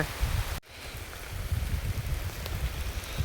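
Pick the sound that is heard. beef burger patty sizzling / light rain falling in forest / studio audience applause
light rain falling in forest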